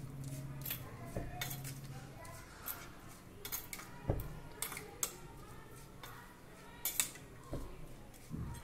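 Semolina batter with salt being stirred in a bowl with a spoon, giving scattered metallic clinks and scrapes against the bowl over a faint room background.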